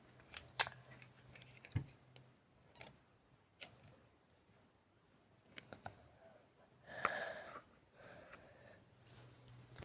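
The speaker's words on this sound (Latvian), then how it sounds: "vienkārši man jāizgriež būs ar šķērēm" Paper being cut with scissors while making a butterfly bookmark, heard as scattered crisp snips and clicks close by, with a denser rustling burst of cutting near the end.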